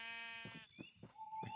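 Sheep in the video game Minecraft bleat a few times in short, wavering calls, quiet and alone over faint background sound.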